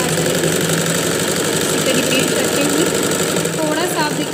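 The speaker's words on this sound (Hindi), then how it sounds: "ये देखिए हम यहाँ पे डबल सिलाई कर देंगे" A sewing machine runs continuously while double stitching a smocking frock, whirring steadily with a mechanical hum close by, with a brief faint squeak near the end.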